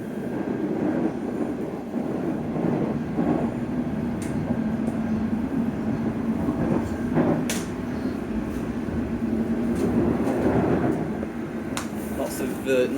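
Riding aboard a London Underground Metropolitan line train, a continuous low rumble and hum of the carriage in motion with occasional clunks and rattles, heard from inside at moderate level.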